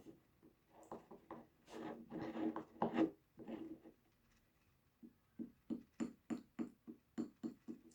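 Slime is mixed by hand in a bowl. Soft, irregular rubbing and squelching comes first, followed by a steady run of quicker, sharper rhythmic scrapes, all faint and close with no voices.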